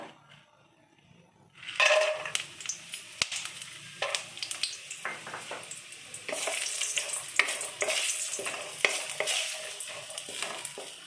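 Lentil dumplings (badi) fry in hot oil, a crackling sizzle that bursts in after a quiet opening and keeps going with stirring scrapes and pops, fairly close and with no talk.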